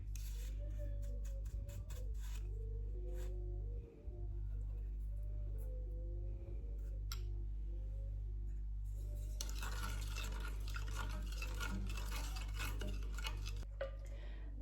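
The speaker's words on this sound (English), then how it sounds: "Give it a mix." A spoon stirs a mixture in a bowl after cinnamon and sugar go in, giving soft scraping and clinking taps over a steady low hum, followed by a broader, rougher swishing stretch near the end.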